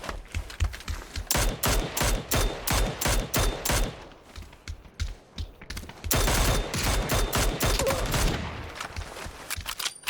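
Rapid bursts of automatic gunfire in the battle royale game PUBG, loud and near, firing in repeated clusters with short gaps and a long sustained volley near the end, with no talk over it.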